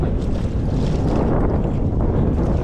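Wind buffets a fishing boat out on the water in a steady, loud, rumbling roar across the microphone, with no voices.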